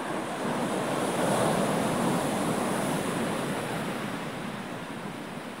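Loud, continuous roar of large waves breaking on the shore at Dingalan, Aurora, Philippines, at 6:30am ahead of an approaching typhoon, with steady wind noise and no voices.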